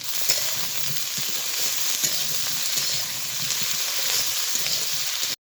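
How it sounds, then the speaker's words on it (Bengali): Cut eggplant and potato pieces frying together in a pan, a loud continuous sizzle with soft stirring scrapes throughout and no voices. "এর মধ্যে দিয়ে দিব কেটে রাখা বেগুন আলু আবারও একসঙ্গে একটু ভেজে নেব"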